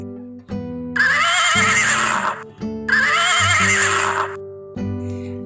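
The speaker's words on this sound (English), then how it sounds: "H for horse" A horse gives two loud, shrill whinnies over a backdrop of sustained musical tones, each neigh rising and trailing off, close and clear.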